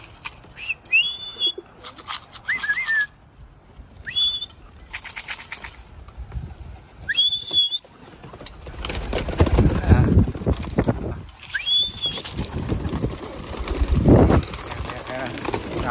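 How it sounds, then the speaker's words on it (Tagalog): Young racing pigeons return to their loft after a ten-minute flight, with bursts of wing flapping and a few short whistles, while people talk and call nearby throughout. "Tawagin na natin yung mga young birds natin after nilang magronda ng 10 minutes."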